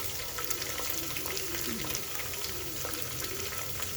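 Green chillies and Byadgi chillies fry in hot oil for lemon rice, giving a steady, moderate sizzle with soft stirring scrapes throughout.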